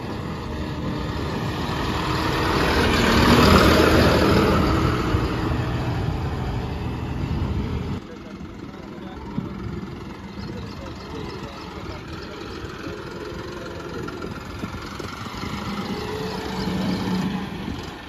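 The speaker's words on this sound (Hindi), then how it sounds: "जॉन डीयर CRDI 5310 के ऊपर जो है ये लगाई है, 4x4 ट्रैक्टर है, तो देखते हैं भाई कैसी चलती है" A John Deere 5310 CRDI 4x4 tractor fitted with a brand-new backhoe loader attachment runs with a steady diesel hum, louder at first and then settling to a lower idle, with faint voices nearby.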